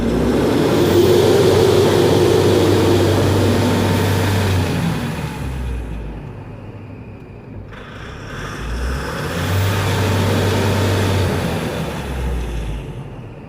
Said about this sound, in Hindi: तो यहाँ पे हमने गाड़ी को स्टार्ट किया है और रेस करेंगे 2-4 बार हम